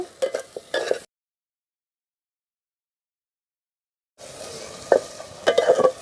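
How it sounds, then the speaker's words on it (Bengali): A spice paste of turmeric, cumin and coriander powder with salt is stir-fried for chicken kosha. It sizzles with scraping stirs in a short burst, falls silent, then resumes with close, clattering stirring. "আবারও আমি একটুখানি মশলাটা কষিয়ে নেব"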